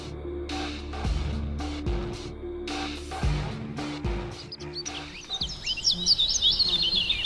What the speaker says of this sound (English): When we hear the bird sounds, we feel comfortable and reassured.